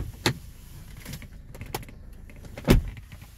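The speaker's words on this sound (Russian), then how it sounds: "И если откроем заднюю дверь и закроем" A Mercedes car's rear door opens and shuts, heard as a few sharp latch clicks and thumps, then one heavier closing thud near the end, close by in a quiet interior.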